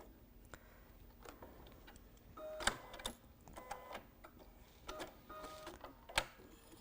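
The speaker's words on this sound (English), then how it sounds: "I'm going to back stitch across them" A sewing machine back stitches across a crossbody bag in short, uneven bursts of ticking and clicking, close and fairly quiet with pauses between runs.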